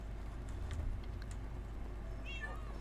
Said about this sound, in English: But I hear kitties.